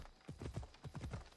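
Rhythmic clip-clop of horse hooves trotting at a steady pace in the video game Assassin's Creed Odyssey, fairly close and clear, with no one speaking.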